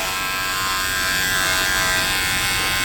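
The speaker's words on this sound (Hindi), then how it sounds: "जो हमने बड़ी वाली ट्रिमर का 0 का कट दिया था" An electric hair trimmer buzzes close and steadily as it cuts hair in a barbershop fade, a continuous high whine with no pauses across the short span.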